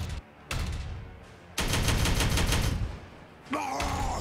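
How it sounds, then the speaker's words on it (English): Video-game gunfire from Warhammer 40K Regicide comes in loud, separate bursts of rapid shots with short quieter gaps between them, ending in a sharp metallic swell. "Shoot! Shoot! Bring me an ammo drop so I can keep firing!"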